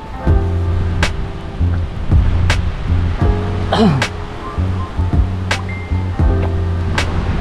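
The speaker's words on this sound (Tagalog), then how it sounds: "Tsaka lumalakas ang alon." Ocean surf on a black-sand beach rolls in with a steady, loud rushing wash, broken by repeated sharp cracks and thumps, and a steady low hum runs underneath.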